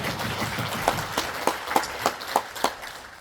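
Light, scattered clapping from a small group, with several distinct claps standing out over a soft background murmur.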